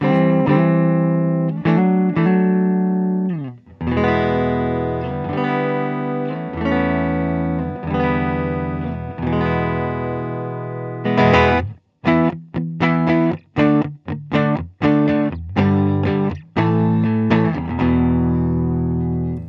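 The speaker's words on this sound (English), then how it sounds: "let's go ahead and run through the tones, starting with our neck pickup right there." Gibson Les Paul Special electric guitar from 2021 played through its neck pickup, giving loud sustained chords and riffs with a dark, thick distorted tone, then short choppy stabs with brief gaps toward the end.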